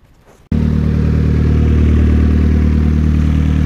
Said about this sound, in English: Letting the engine warm up a little bit.